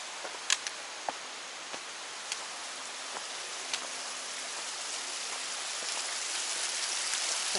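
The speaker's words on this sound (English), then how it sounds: "It has its own private little waterfall." A small waterfall on a forest hiking trail gives off a steady broadband rush of flowing water, close and even, with a few faint clicks and taps scattered across it.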